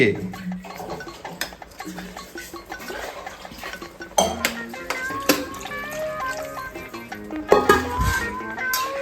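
Biryani stirred in a pot, with metal spoon clanks and scraping against the vessel in irregular bursts, mixed with background voices and household noise.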